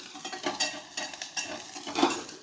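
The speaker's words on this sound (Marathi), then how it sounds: "म्हणून मी चांगला असं परतून घेते" Spice masala with ginger is sautéed in a pan, the stirring spoon scraping and clinking in short irregular strokes over a soft sizzle, close and with no talking.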